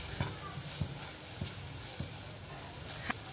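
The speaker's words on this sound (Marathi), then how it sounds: "छानपैकी हा मसाला आता आपण परतून घेऊया आणि मग आपण आमटी फोडणीला टाकू." A green chili masala sautés in hot oil with a soft, steady sizzle, punctuated by light, regular taps of stirring.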